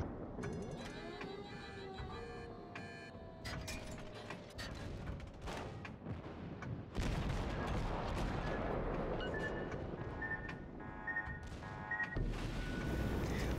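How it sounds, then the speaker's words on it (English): Naval gunfire from the St. Louis cruiser in World of Warships, repeated sharp shots and booming salvos over a droning mechanical background, with a heavier sustained roar after the midpoint; no talking. "I continue to fire shell after shell into the target"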